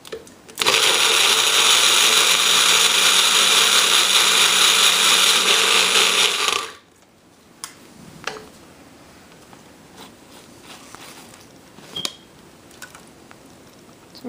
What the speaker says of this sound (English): I just bought the Magic Bullet here, and I think it's an amazing, amazing tool